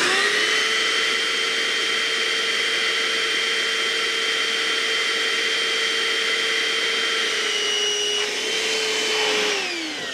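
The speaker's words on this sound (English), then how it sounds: "this thing is very small vacuum cleaner too." A small vacuum cleaner runs steadily while pulling electrical wire through conduit, a loud, continuous whining drone at a constant pitch that drops briefly near the end as the load changes.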